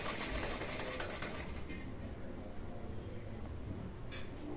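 Sewing machine running steadily while stitching the lined neckline of a princess-cut blouse, a dense, continuous whirring rattle that fades slightly partway through, with a brief faint tap near the end.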